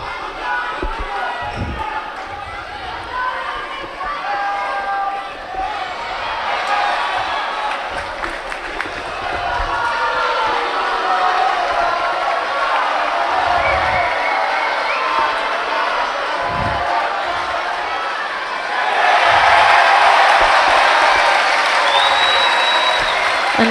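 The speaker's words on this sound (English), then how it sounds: "on mat number 2, you hear a big cheer" Crowd noise at a judo Grand Prix in Tel Aviv, a steady murmur with scattered claps and shouts that swells into a louder cheer near the end, with a commentator talking over it.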